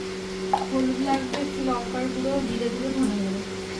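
Potatoes sizzle steadily as they fry and are stirred in a pan for a vegetarian chhana kalia, with a constant hiss and a faint hum under people talking.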